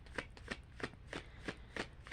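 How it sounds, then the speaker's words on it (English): A deck of tarot cards is shuffled by hand in a quiet room, with repeated soft riffling bursts at a steady rhythm, close and fairly faint, and no talking. "6 minutes of shuffling cards."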